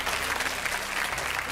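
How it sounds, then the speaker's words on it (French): A French TV studio audience bursts into steady, dense applause for a notary, filling the space evenly at close range with no voices over it. "je crois qu'on peut applaudir très fort"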